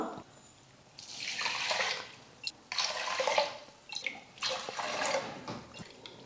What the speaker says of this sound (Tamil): 1 டம்ளர் அரிசிக்கு 3 டம்ளர் தண்ணி சேர்த்துக்கலாம்.